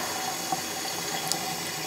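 Tap water runs steadily into a sink while makeup brushes are rinsed, a soft continuous hiss and trickle with a couple of faint clinks, no talking.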